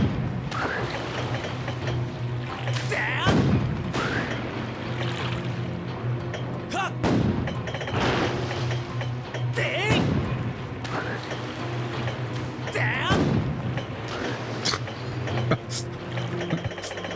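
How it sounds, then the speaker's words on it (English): Cannon fire in The Legend of Zelda: Skyward Sword HD: several sharp broadband blasts roughly every few seconds over steady game music and ambience, fairly loud and close. "I love how Link makes a sound of exertion when using the cannon"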